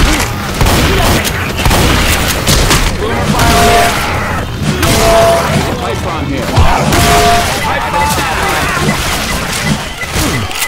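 Shots and explosions in the Left 4 Dead 2 Parish campaign pound out in dense, repeated bursts, with loud booms and crashes layered over excited players' voices throughout.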